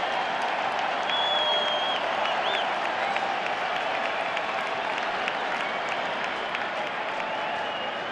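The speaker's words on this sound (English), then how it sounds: "The crowd coming to life." A baseball stadium crowd at the Phillies' 2022 season opener against the A's roars and applauds in a steady, distant wash of cheering that holds for the whole stretch.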